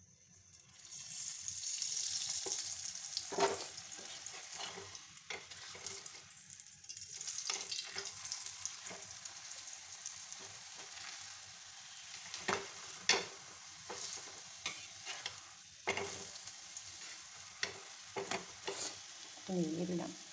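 Methi paneer parathas frying in a pan, a steady close sizzle running throughout with occasional sharp clinks and scrapes of a spatula, plus brief splashes of water near the end.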